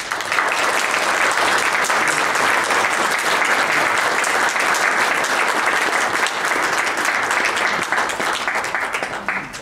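A lecture hall audience at UNLV welcomes a visiting professor with sustained, loud, dense clapping that fills the room and fades slightly toward the end.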